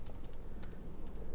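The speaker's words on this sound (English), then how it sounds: "you can click onto here and just type in what you want to say" Keys tapped on a computer keyboard in a quick run of light clicks, close and clear over a low background hum.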